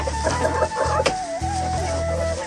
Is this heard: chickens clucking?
yes